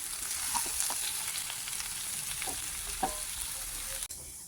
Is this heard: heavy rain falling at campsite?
no